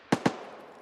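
Two sharp gunshots in quick succession in a first-person shooter game, moderately loud and close, followed by a fading tail of reverberation.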